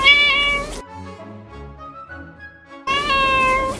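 A cat meows twice, loud and close, once at the start and again near the end, with a gap between that holds faint, muffled background music.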